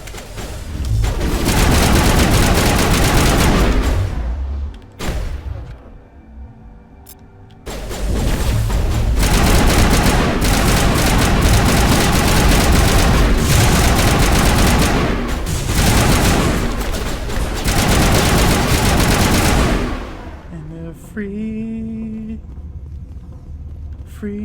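Heavy gunfire in the video game Mass Effect, in a fight against Geth on Noveria: loud, dense bursts of automatic fire and blasts that go on almost without a break, with a short lull and a brief voice near the end.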